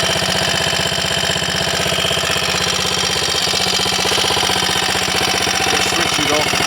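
Triumph Scrambles Cub replica motorcycle idling on a borrowed Trials Cub carburettor, a loud, close, rapid and even single-cylinder thumping that runs unbroken throughout.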